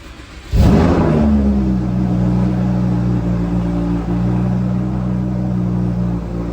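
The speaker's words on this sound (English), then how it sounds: "Let's get a nice cold start in." A Lamborghini engine cold-starts with a sudden loud crank and bark, then settles into a steady, deep, droning idle that stays strong and close for several seconds. No one talks.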